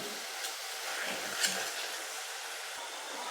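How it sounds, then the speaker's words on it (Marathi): Masala gravy with a little turmeric, for a suran (elephant foot yam) dish, sizzling softly in a pan over a slow flame, a steady gentle frying hiss with occasional light stirring scrapes. "स्लो फ्लेमवरच परतून घ्यायची आहे ग्रेव्ही"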